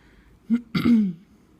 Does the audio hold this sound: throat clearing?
yes